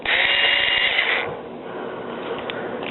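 A Drill Master 4.8 volt cordless screwdriver whirs at high pitch for about a second while backing screws out of a plasma TV's rear panel, then spins down, leaving faint workshop noise.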